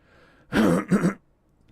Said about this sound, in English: I'm having a coughing attack in the middle of all that